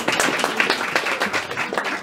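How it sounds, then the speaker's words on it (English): An audience claps for a traveling folk singer at the Tumbleweed music festival, with a short burst of steady, close, dense applause and no voices over it. "don't clap for him yet"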